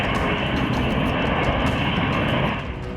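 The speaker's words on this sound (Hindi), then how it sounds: "F-35 fighter jet." An F-35 fighter jet flies past with a loud, steady engine roar that holds close and powerful, then eases slightly near the end.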